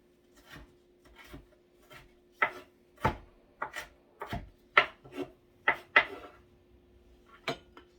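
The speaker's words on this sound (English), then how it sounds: "Chopping, really, believe it or not, is one of my favorite things to do" A knife chopping food on a board, a dozen or so sharp irregular knocks spaced through the passage, close and distinct against a faint steady hum, with no talk.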